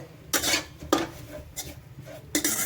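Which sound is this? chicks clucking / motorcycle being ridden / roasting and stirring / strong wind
roasting and stirring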